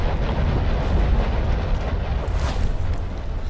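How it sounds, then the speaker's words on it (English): An earthquake in the Legend of Grimrock dungeon video game produces a deep, continuous rumble that is loud and unbroken throughout. "And apparently they give you an earthquake as well."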